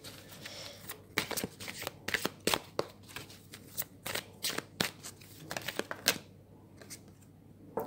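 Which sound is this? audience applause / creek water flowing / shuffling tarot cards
shuffling tarot cards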